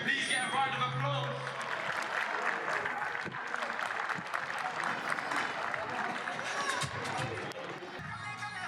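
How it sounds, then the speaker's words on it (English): Dense, sustained clapping from a large crowd at a football match fills the whole stretch as the teams walk out, steady and fairly loud without a pause. "can we please get a round of applause?"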